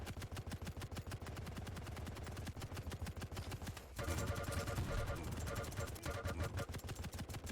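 Video game gun fires while zoomed in, a fast steady stream of close, loud shots that grows denser and heavier partway through, with no talk.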